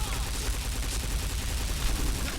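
Rapid P90 submachine gun fire in a video game, a dense, unbroken burst of loud shots that holds steady for the whole stretch with no pauses.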